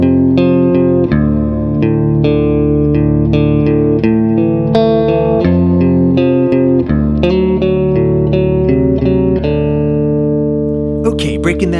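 A riff is played on electric guitar in drop D tuning, with distorted, reverb-tinged picked notes in a steady repeating pattern, loud and close, ending in a brief scrape.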